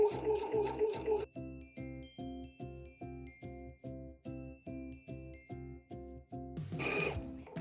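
Sewing machine stitching close to the edge of a fabric fold for a neckline placket, a steady rapid mechanical chatter of repeated needle strokes running for several seconds, with brief louder clatter at the start and end.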